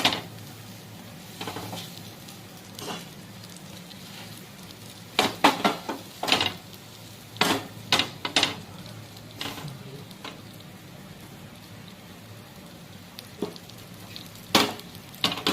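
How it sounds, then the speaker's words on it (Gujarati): Pav bread toasting in a pan with butter and pav bhaji masala, Kashmiri red chilli and coriander, a low steady sizzle broken by clattering pan and spatula knocks in irregular bursts, with no talk. "આને બરાબર હવે શેકી લેવાના"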